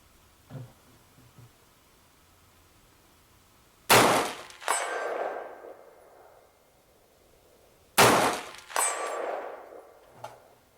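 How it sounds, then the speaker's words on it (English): Two rifle shots from a WS MCR AR180B-style rifle with a red dot sight, each a loud, sharp crack followed by a ringing clang from a 200-yard steel target, spaced about four seconds apart on an outdoor range. "let's see if we can hit that 200-yard steel target with our red dot"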